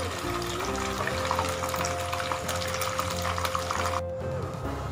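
Chicken pieces frying in a pan after being turned to the other side, a steady close sizzle with some clattering, plus a sustained tonal hum running underneath.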